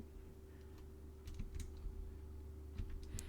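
A few short runs of quiet computer keyboard typing, scattered clicks close by over a faint constant hum, no speech.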